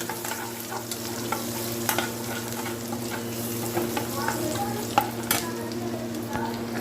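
Chicken frying in a pan with red chilli powder gives a steady, close sizzle and crackle with scattered sharp pops, heard alone without talk.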